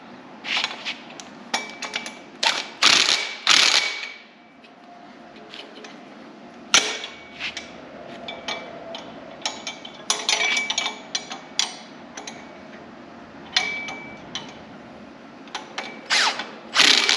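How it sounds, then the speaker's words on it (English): Metal wrench clicking and clinking against bolts in an engine bay while pulling the engine from a 1966 Ford Mustang, irregular ratcheting and tool taps, close and fairly quiet in a workshop. "Then I need to grab a wrench. And these ones I will tighten with this."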